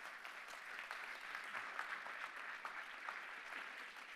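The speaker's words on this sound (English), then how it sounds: "two-thirds of my panel applause." An EV summit audience claps for a panel, steady and fairly faint, with no talk over it.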